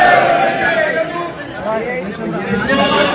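Dense crowd chatter at an OBC rally in Delhi on Mandal Day, many overlapping voices talking at once, steady and fairly close, with no single voice standing out.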